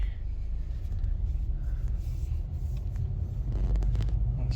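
Steady low rumble of a 2022 Subaru BRZ heard from inside the cabin while driving on the road, continuous engine and road noise with no talking.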